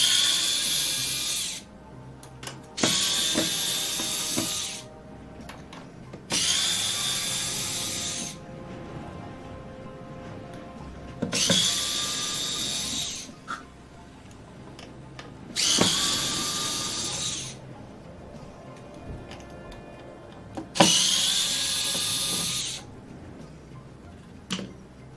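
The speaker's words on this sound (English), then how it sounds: "And we'll just remove the screws." A power screwdriver takes the screws out of a fight stick being converted to a hitbox, running in about six separate bursts of whirring with short quiet gaps between them. It sounds close and loud, and nobody speaks.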